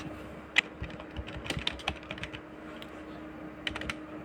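Fingers type on a computer keyboard in an irregular run of clicky keystrokes, with a few sharper taps standing out, close and moderately loud with no talking.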